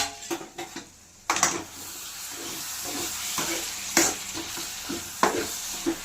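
Chicken curry pieces sizzle in a pan while a spoon stirs them, giving a steady frying hiss punctuated by several sharp scraping clanks against the pan, close by with no talk.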